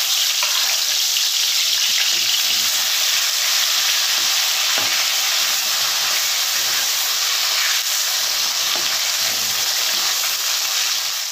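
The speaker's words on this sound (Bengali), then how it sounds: "নুন হলুদ মাখিয়ে রাখা মাছগুলো আমি ভেজে নেব, একটা একটা করে দিয়ে দেব।" Tilapia fish, rubbed with salt and turmeric, sizzle and fry in hot oil in a pan, a loud, steady crackling hiss that runs unbroken and close throughout.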